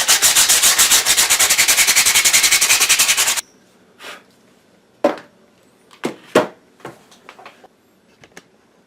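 Sandpaper rubbed briskly over Ninebot One pedal pads in rapid, even back-and-forth strokes for about three seconds, followed by a handful of scattered knocks and taps.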